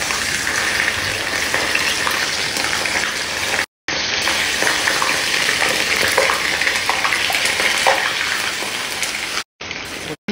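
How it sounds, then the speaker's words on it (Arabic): Fish sizzles loudly in plenty of hot oil while being fried for Bahraini fish machboos, a dense, steady crackle that runs without a break except for two brief cut-outs. "زيت حار لازم يكون وايد عشان السمك ما يشرب زيت وايد"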